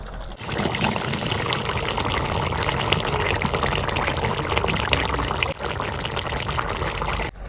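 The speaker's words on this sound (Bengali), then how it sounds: "একটুকা ঝোলে পানি দিয়ে দিই।" Water poured into a pan of chicken feet curry, a steady close splashing pour lasting several seconds with only a brief dip near the end.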